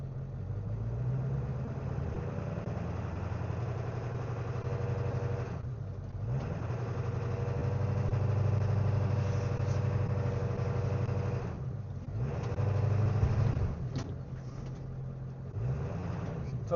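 A 7.3 diesel engine idles after a cold start in freezing weather, a low steady rumble held throughout with a couple of brief dips and slight swells in revs.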